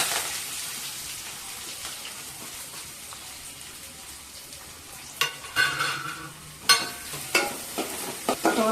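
Finely chopped greens, spinach and amaranth with onion, frying and being stirred in a pan, giving a steady sizzle with scraping stir strokes and clinks growing more pronounced toward the end.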